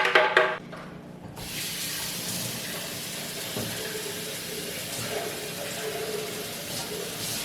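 Tap water rinses steadily into a kitchen sink during raw granola preparation, a continuous hissing splash that starts after a brief clatter and runs evenly to the end.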